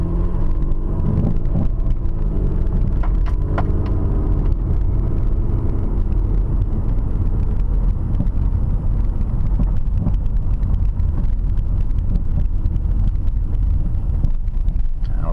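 A car driving straight across an intersection during a driving lesson, a steady interior rumble of engine and road noise with some wind buffeting and a few faint clicks, continuous and close.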